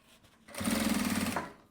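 A sewing machine topstitches a fabric panel with its lining in one quick run of rapid, buzzing stitches lasting under a second.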